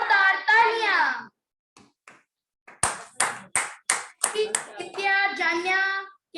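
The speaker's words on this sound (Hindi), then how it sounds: "बहुत ही धमाकेदार प्रस्तुति, जोरदार तालियां।" Short burst of clapping from the audience at a Jain children's assembly for the Shrut Panchami festival: a handful of crisp, evenly spaced claps, close and loud, with a voice speaking just before and after.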